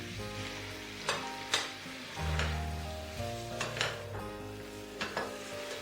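Prawns and jackfruit sizzle in a pan, sautéed for ichar chingri, with a steady frying hiss and several sharp clinks of a spoon stirring against the pan, close and fairly quiet.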